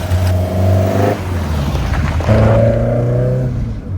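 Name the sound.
1972 Ford Escort Mexico engine while driving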